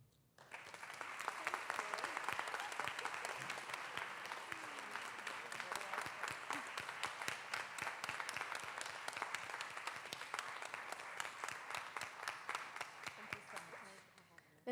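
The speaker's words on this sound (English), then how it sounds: "Let's give another big round of applause to our keynote speaker, Dr. Danielle Peebles." Audience applause at a graduation ceremony for a Master of Science in Medical Sciences class in St. Louis, a sustained dense round of clapping from a large crowd, steady and even throughout with no one talking.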